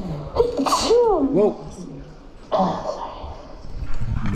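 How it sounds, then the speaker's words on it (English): A woman sneezes once, sharp and close, followed by a quieter breathy burst and a short exclamation from someone nearby. "Mama sneezed."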